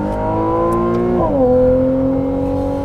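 A Ferrari 296 GTB engine heard from the cabin with the windows up, a loud droning tone that climbs with revs, then drops sharply as the gear shifts and settles into a lower steady pull, with no talking.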